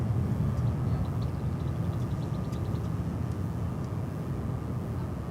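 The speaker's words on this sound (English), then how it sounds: "We have a heavy jet coming in over on this side now." A heavy jet airliner arriving at DFW airport on a long flight from Buenos Aires, heard as a steady, loud broadband roar that holds throughout, with no talk.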